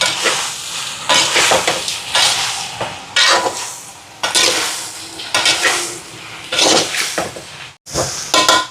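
Tomato sauce and salt are stirred into eggplant frying in a pan, giving a busy sizzle with repeated scraping and clinking strokes of a utensil, close and fairly loud.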